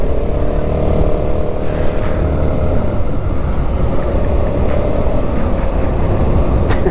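A Rakuta Chinese 150cc scooter running at speed, its engine droning steadily beneath a loud, continuous rush of wind noise with no voices.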